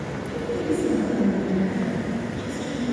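Class 86 electric locomotive 86 101 at London Euston, its traction motors and rectifier giving a steady low electrical hum and drone with a faint whine, close and continuous.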